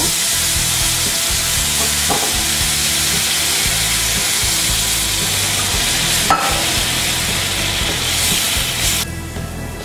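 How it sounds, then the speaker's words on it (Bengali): Sugar syrup is poured into semolina frying in ghee, producing a loud, steady, close sizzle with a few scraping stir knocks, and no voice. "এবার আমি যে শিরাটা তৈরি করেছিলাম ওই শিরাটা দিয়ে দিব"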